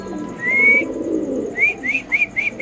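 Pigeon calls sound repeatedly over a low murmur of background noise: one drawn-out rising whistle, then several shorter ones in quick succession, fairly close.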